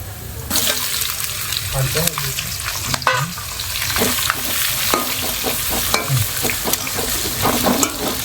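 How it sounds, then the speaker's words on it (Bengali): Sliced onions hit whole spices frying in oil for a village-style chicken biryani, a loud close sizzle broken by clattering spatula strokes and scraping, with some faint background voices. "খড়া মশলাটাকে একটু ভেজে এতে দিয়ে দেবো পেঁয়াজ।"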